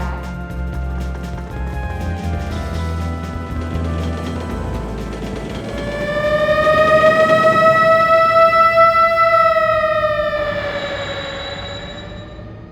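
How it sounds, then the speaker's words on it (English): A local train pulls into a station in the Robot Alchemic Drive video game on PS2, with a low rumble building into a loud, sustained tonal whine that holds steady for several seconds before fading. "Arriving on track 1 is a local train bound for Senjo."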